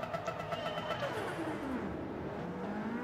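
Race car engine in the Gran Turismo 7 racing game, revving steadily with a pitch that falls over three seconds, loud and continuous with no talking.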